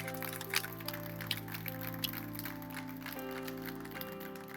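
A church congregation claps steadily through a sustained keyboard or organ chord, the applause a dense, moderate crackle beneath the held tones.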